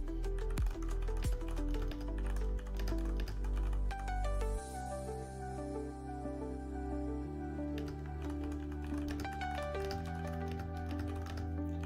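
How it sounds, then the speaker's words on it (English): Typing on a computer keyboard during a live futures trading session, with clicking keys faint beneath loud, continuous music that dominates throughout. "Sorry for the typing there, guys."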